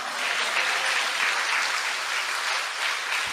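A church congregation breaks into sustained applause, a dense, even wash of many hands clapping together, loud and close throughout with no voices over it.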